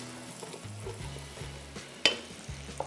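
Prawn heads frying in a pan, a steady close sizzle with stirring scrapes and one sharp clank of a utensil, no talk.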